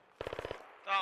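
A rapid burst of about six automatic gunshots rings out in the video game Squad, followed by a brief harsher blast as the clip ends.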